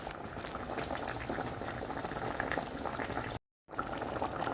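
A pot of curry with taro and hilsa fish head bubbles at a steady boil, a dense close burble of popping liquid with a brief dropout near the end and no talk.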